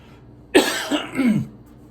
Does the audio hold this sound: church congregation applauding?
no